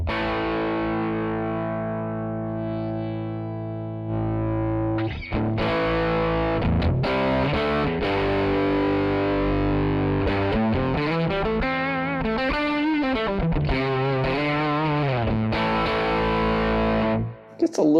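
Heavily distorted electric guitar through a Quad Cortex amp capture with the gain cranked, chugging chords and bending riffs played up close and loud for the full stretch, ending in a brief cut.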